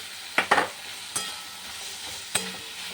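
Potatoes tossed into a pan of cooked-down spice masala with Kashmiri chilli, turmeric and salt, a low frying sizzle under a few sharp spatula scrapes and clinks, close and without speech.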